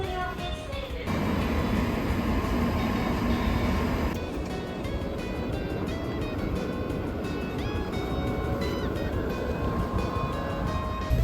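A sixteen-car train pulls into a station platform with a steady, heavy rumble and faint tonal whine that holds throughout, with no voices over it.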